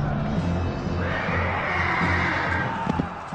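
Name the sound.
horses neighing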